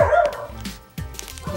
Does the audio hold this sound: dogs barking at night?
yes